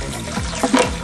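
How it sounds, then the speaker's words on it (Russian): Water running from a tap into a drain pipe during sewer cleaning, a soft rushing splash with a couple of brief gurgling surges. "Теперь включим кран."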